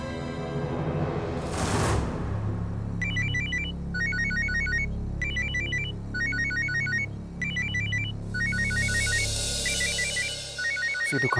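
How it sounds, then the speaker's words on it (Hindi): A telephone rings with repeated electronic trilling bursts in a steady pattern over about eight seconds, fairly loud and alone apart from a brief whoosh at the start; the ringing is from a Hindi TV drama. "उसी दुकान से फोन है।"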